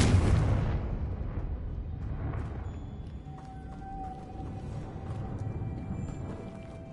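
A loud blast from a Confringo blasting spell in Hogwarts Legacy opens sharply, then rumbles and decays into a long ringing tail with scattered debris-like crackles, no voices over it.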